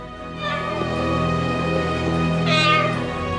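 A parrot mimics a cat's meow, a drawn-out, tonal mewing call with a rising cry near the end, close and clear.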